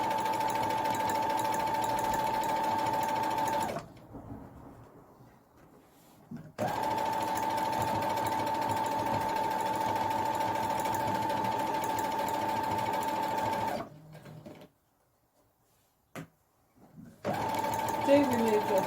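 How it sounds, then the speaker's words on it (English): A sewing machine stitching a tote bag runs in two long, steady mechanical bursts, with a short pause between them and a brief start at the end. The machine sounds close and fairly even, and a voice may speak faintly underneath. "line up the foot as I'm moving forward and sew to the end."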